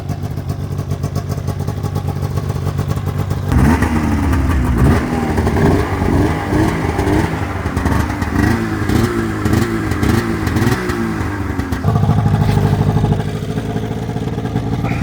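A Polaris Indy 700 XC snowmobile engine running, loud and close, with an idle that rises into a rough, clattering rev for several seconds before settling back to a steady idle.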